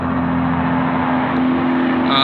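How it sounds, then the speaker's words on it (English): A semi truck's engine brake roars steadily as the truck descends a hill, a loud continuous rumbling drone heard from inside the cab with no talking. "There's some jake brake action for you if you guys would like to hear the jake brakes."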